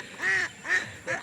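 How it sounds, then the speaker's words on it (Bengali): Ducks quacking on a river in three close, loud bursts of harsh, nasal calls. No voices are present. "দেখতে পাচ্ছেন নদীতে খুব সুন্দর হাঁস"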